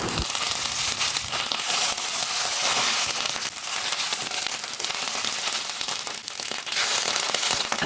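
Bhetki fish paturi frying in mustard oil in a pan (kadai): loud, dense, continuous sizzling and crackling that holds steady throughout.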